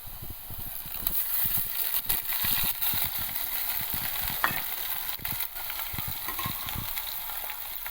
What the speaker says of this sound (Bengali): আদা রসুনটা একটু ভাজা ভাজা হয়ে যাক